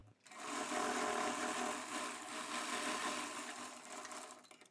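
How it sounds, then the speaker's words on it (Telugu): A sewing machine runs steadily for about four seconds while top-stitching a lining blouse, a close, continuous whirring hum that starts after a brief pause and slows near the end, with no talking. "పిన్ను పెట్టిన తర్వాత ఇక్కడ ఫస్ట్ టాప్ స్టిచ్ అనేది వేసుకుంటాం"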